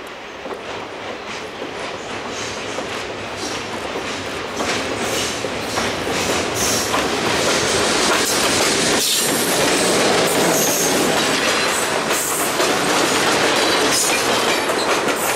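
Wabash F7A diesel locomotive number 1189, built in 1953, running at a railroad museum in central Illinois; loud rolling train noise with rhythmic clickety-clack of wheels and some squeal, growing louder after a few seconds and staying close.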